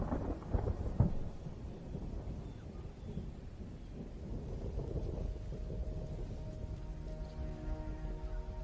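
A thunderstorm with steady rain pattering throughout; a heavy, close rumble of thunder cracks near the start and then fades under the constant downpour, with no voices.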